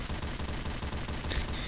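Dense, continuous gunfire from the zombie shooter Left 4 Dead 2, a steady rattling fusillade of rapid shots filling the whole short stretch without pause.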